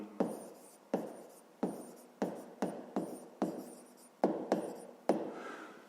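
Pen or chalk strokes writing out a grade 5 math solution, a series of short sharp taps and scratches in an uneven rhythm, close and quiet.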